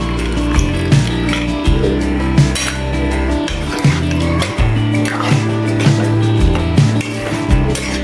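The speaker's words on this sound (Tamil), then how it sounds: "பருப்பு கொட்ட வேணாம், பருப்பு தண்ணி மட்டும் கொட்டிக்கலாம்." Lentil cooking water pours into a pot of sambar with liquid trickling and splashing, broken by repeated clinks of a utensil against the vessel, loud and close.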